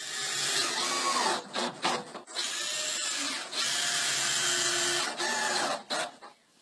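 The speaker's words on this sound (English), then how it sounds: "first you have to cut this part of the wood because the cable is going through right" A piece of wood is cut with a power tool for a cable to pass through, giving a loud, steady buzzing whine that is broken by several short pauses and dips, with no talking.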